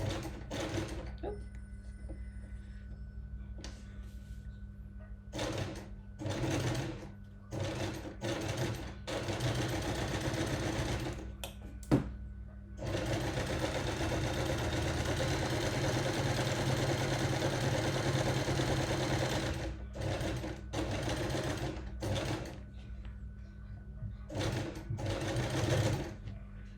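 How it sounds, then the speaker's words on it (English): A sewing machine runs steadily while top stitching along a fabric fold, its fast, close whirring hum broken by a few short stops and restarts. "I'm going to top stitch all the way up"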